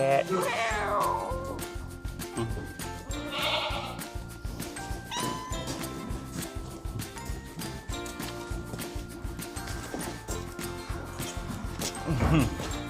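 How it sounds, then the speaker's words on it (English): A domestic cat meows repeatedly, close and fairly loud, among farm-animal chatter and a busy background, with people talking over much of it. "And the cat."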